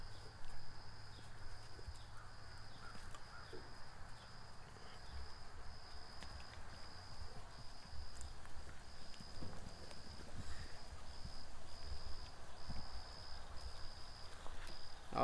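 Horses walk back out to the pasture with soft, faint, uneven hoof clops outdoors. Crickets chirp steadily underneath.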